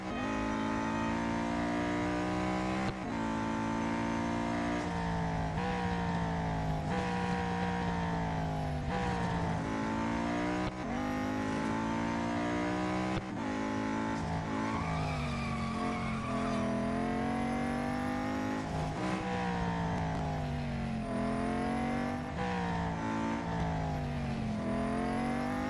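An Aston Martin Vulcan race car in the racing video game Real Racing 3 roars continuously at high revs, the engine note climbing and dropping with repeated gear shifts and occasional tire squeal, with no talking.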